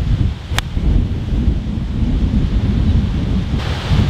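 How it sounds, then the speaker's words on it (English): Strong gusting wind roars into the microphone on a golf course in stormy weather, a heavy, continuous low rumble with one sharp crackle early on. "we are playing today in a tornado"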